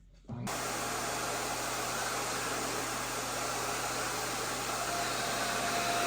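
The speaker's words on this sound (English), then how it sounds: "Now we've got the de-shedding tool that we're going to run on her." Dog grooming vacuum running with a de-shedding tool attached, a steady loud whooshing motor drone that switches on after a brief quiet start and holds constant throughout.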